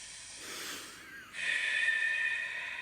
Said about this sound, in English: this is such a good breathing technique for anxiety and meditation